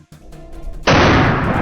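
A single loud rifle gunshot blast bursts out after a quiet moment during a wild boar hunt, its roar sustained and echoing rather than dying away quickly.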